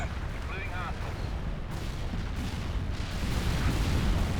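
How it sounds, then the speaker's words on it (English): Artillery strikes land in the Cold War strategy game World in Conflict: heavy rolling booms and rumbling blasts swell toward the end, with a voice speaking briefly over the start. "3, 2, 1, artillery!"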